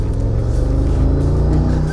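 An old Mercedes AMG G-Class engine drones steadily while driving, a loud, close, low rumbling tone that holds nearly constant with slight shifts in pitch throughout.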